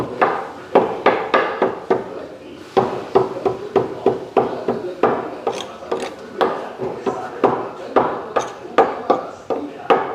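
Finished getuk, a cassava snack, is chopped into small pieces with a knife on a board in a food shop kitchen, giving a steady run of sharp, close chopping knocks with brief pauses and some voices.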